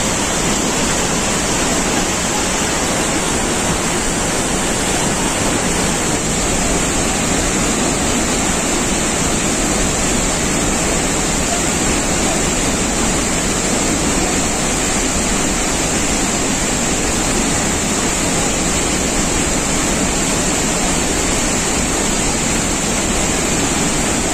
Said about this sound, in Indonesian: Nah ini air terjun Langkawi Tinggi.